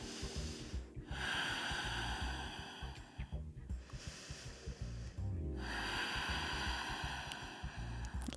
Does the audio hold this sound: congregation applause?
no